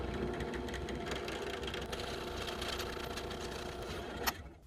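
A drill press runs steadily, its motor humming and whirring as the bit bores through a wooden dowel rod, with a brief sharp click near the end before the sound cuts off.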